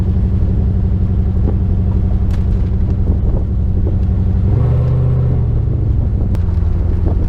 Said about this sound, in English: Normal driving just sounds like normal driving, even with the top down.